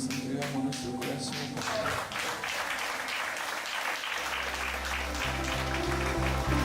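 Church congregation clapping along in worship, a steady rhythmic patter of hands under music and a voice, fairly faint and at a distance.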